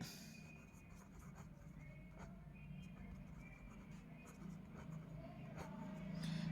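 Pen or chalk scratching out a line of working during a Class 10 maths lesson: faint, irregular strokes over a steady room hum, with a voice murmuring in places.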